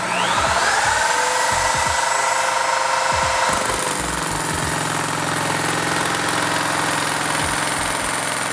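A steady, loud mechanical whine of a drill-driven CaNibble nibbler chewing through sheet metal, with rapid rattling cuts continuing throughout.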